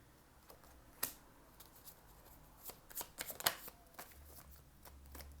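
Tarot cards are shuffled and drawn, giving faint close riffles and soft flicking snaps in scattered bursts over a quiet background.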